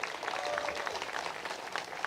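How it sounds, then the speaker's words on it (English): An outdoor crowd at a statue unveiling for Dawn Staley claps steadily, a moderate, even patter of applause with no voices over it. "Y'all clap your hands for that."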